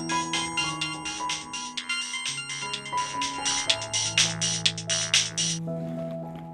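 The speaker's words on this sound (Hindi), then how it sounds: "जरा फोन आया, देखो माँ कौन है।" A phone ringtone plays in a family home, a bright electronic melody of quick repeated tones that rings out clearly and alone for several seconds.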